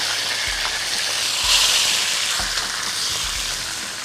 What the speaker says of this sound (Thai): ก็คั่วในกระทะอย่างนี้ก่อนเลยครับ ให้ มะเขือเราสุกเขียวไว้